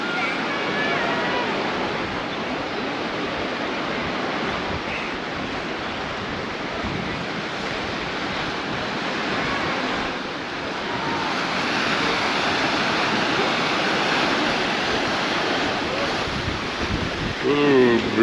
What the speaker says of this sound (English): Ooh, breezy, breezy, breezy.